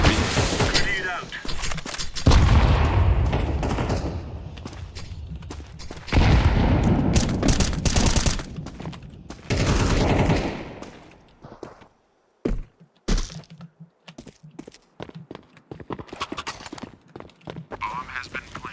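A video game grenade blast and rapid gunfire burst out in loud, dense bursts that drop out in places, then return as short choppy shots toward the end.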